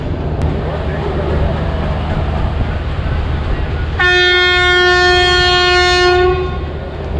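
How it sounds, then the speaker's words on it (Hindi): Departure horn of the Thall Express 130 Down, locomotive PHA 8304, at Rawalpindi railway station: a loud, steady, sustained horn blast lasting a couple of seconds, rising out of busy platform ambience and then cutting off. "ये जी डिपार्चर हॉर्न भी हो गया है।"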